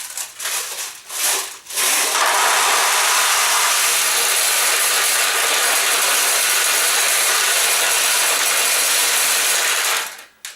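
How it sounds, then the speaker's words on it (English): Pachinko balls on a Nishijin A machine pour down a chute into the recycler tray. A few clicks open into a long, loud metallic rolling rattle that runs steadily for about eight seconds, then stops abruptly. "Now we'll add some balls to the supply tray, and they'll roll down the chute and into your recycler tray."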